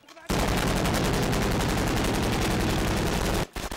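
A Russian machine gun on a front line fires a continuous, loud, rapid burst lasting about three seconds, dense and unbroken, with a moment of quieter background before and after.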